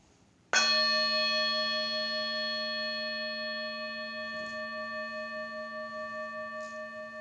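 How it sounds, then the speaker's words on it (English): A meditation bell is struck once, giving a clear, loud strike followed by a long sustained ring of steady overtones that slowly fades across several seconds, with no voices. "I'm going to sound the meditation bell"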